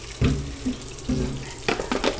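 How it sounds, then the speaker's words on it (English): Water runs steadily from a tap nearby, splashing and gurgling with a few louder surges. "Maybe I'll just add a little bit more water,"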